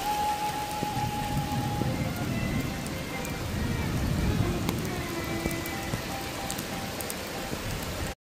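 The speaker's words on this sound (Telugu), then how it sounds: "ఫుల్ వర్షం." A downpour at the Swarnagiri hill temple area in Yadagirigutta makes a loud, even roar of drops on surfaces that holds steady throughout, then cuts off abruptly.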